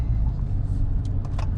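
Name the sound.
2019 widebody Dodge Challenger driving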